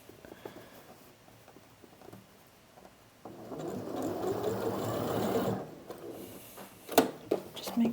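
A sewing machine stitches over a garment's side and armpit seam, quiet rustling at first, then a steady mechanical whirr of running stitches for a couple of seconds, followed by a few sharp clicks and handling noises.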